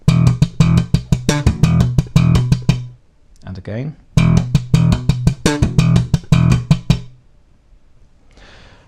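Bass guitar riff in E with fretting-hand slaps and thumb-played ghost notes, heard as a rapid run of percussive plucked and slapped notes, close and punchy, played twice with a brief spoken remark in the gap.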